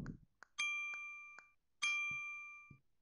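Two bright doorbell chimes in the video game Anyland, each a clear ringing tone that rings out and slowly decays, with faint clicks and soft taps between them and brief low thumps near the start.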